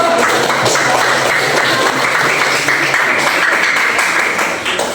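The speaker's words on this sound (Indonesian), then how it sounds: "tepuk tangan dulu" Students in a classroom applaud after a group presentation, steady continuous clapping filling the room for several seconds and tapering slightly at the end.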